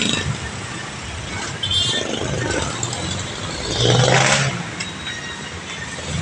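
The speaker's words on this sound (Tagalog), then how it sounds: "Traffic dito sa aming lugar. Maraming sakyan na dito" Busy neighborhood street traffic with jeeps and other vehicles passing close by, engines revving and rattling, one vehicle swelling louder as it goes past over a steady background hum.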